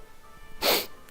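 A single sharp sneeze comes from a person during a mobile game session, sudden and close after a quiet moment.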